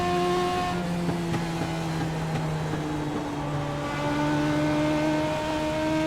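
A Legends race car engine drones in a racing video game at Concord, its pitch climbing and dipping as the car accelerates and shifts, with no voices.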